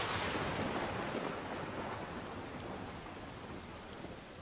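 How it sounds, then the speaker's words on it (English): Steady heavy rain pours down in the video game Final Fantasy XIV, a dense, loud hiss of drops on surfaces that fades only slightly over several seconds, with no voices. "And as the rain falls upon Fenelon"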